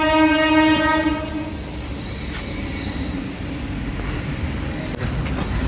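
A train passing nearby sounds a loud horn blast, then its wagons rumble past in a steady, broad roar that fills the rest of the stretch, with no voices.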